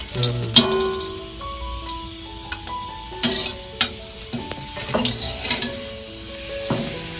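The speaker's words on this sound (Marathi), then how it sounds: "बघा तेल तापलं असतं ना की फटफट तळून होतं." Papad halves fry in a shallow layer of hot oil with a steady sizzle. Metal utensil taps and clinks against the pan come in irregular bursts, close and clear.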